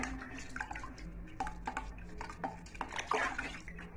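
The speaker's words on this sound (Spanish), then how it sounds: "Después de que la metemos aquí, la lavamos" Palm seeds with rotted pulp being washed in water, with small splashes, sloshing and clattering against a container in an irregular, close rhythm.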